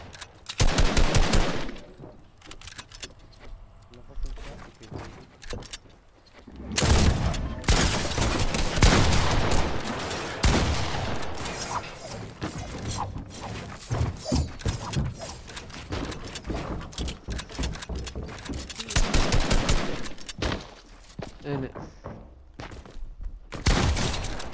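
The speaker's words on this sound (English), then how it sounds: "This is a mad pistol" Rapid pistol gunfire in a video game rings out in dense, sharp bursts over a long stretch, with short pauses between volleys and mechanical clicks, loud and close.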